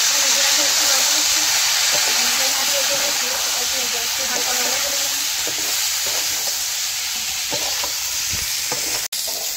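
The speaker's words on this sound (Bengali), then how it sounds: "মাছটি ভাজা করে লেছি।" Fish fries in hot oil over a clay stove, giving a loud, steady close-up sizzle and hiss throughout, broken by one sharp click near the end.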